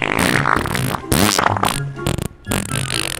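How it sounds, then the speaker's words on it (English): Loud, close fart sound effect in the Roblox game Royale High, a series of long, rumbling, sputtering bursts with brief gaps between them, heard alone without talking. "Enjoy the stinky humidity of my fart."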